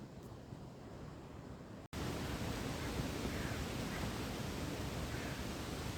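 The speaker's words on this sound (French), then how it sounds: "Le vent souffle." Steady broadband rushing of wind, which cuts out briefly and then returns louder and constant; no voices.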